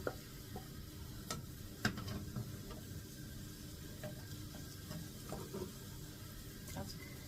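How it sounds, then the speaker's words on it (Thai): Sliced shallots frying in hot oil in a Thai home kitchen until golden, a steady low sizzle with occasional sharp clicks and stirring taps, close by, with no talk. "เจียวหอมให้เหลือง"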